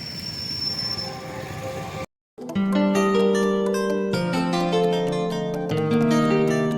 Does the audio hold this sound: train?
yes